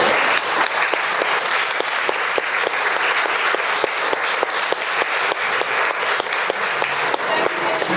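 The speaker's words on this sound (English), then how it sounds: "Just have a round of applause." Applause from the audience at a community forum, dense steady clapping from a crowd lasting several seconds, loud and close with voices faintly mixed in.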